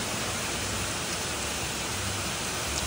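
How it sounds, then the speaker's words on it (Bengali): Heavy monsoon rain pours down steadily in a dense, loud, even hiss that fills the whole stretch, with no voices. "দেখো পুরো ঝমঝমিয়ে বৃষ্টি পড়ছে"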